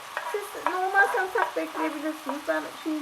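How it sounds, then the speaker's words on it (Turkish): Zucchini with tomato and fresh garlic is sautéed in a pan, with repeated stirring scrapes over a low sizzle close by and a faint voice-like tone running through it. "Hepsini kavurmaya devam ediyorum."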